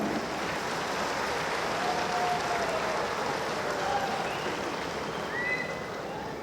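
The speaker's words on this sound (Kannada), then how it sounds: "ಸನ್ಮಾನ್ಯ ಮುಖ್ಯಮಂತ್ರಿಗಳ ನುಡಿಗಳಿಗಾಗಿ ಇದೀಗ ವೇದಿಕೆ ನಿಮ್ಮ ಜೋರಾದ ಚಪ್ಪಾಳೆಯ ಸ್ವಾಗತ" An audience at a public centenary event applauds the chief minister of Karnataka, Siddaramaiah, with dense, sustained clapping that fills the whole stretch at steady loudness, while a few faint voices rise over it.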